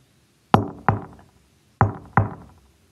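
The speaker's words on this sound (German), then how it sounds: "Er setzt sich neben das Buch und klopft mit dem Schnabel darauf." A raven raps its beak on a book in a library: four sharp knocks in two pairs, each ringing out briefly, close and clear with no talk.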